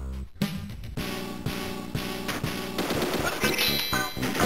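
Rapid automatic weapon fire from the 1995 Zeus/Gaelco arcade game Biomechanical Toy bursts over dense, loud game music, with the shots crackling in quick succession throughout.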